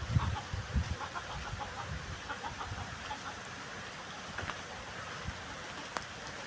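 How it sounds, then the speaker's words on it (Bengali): Village ducks and chickens clucking and calling in bursts outdoors, mixed with a steady patter of rain in the background, with no speech. "গ্রামের হাঁস মুরগি।"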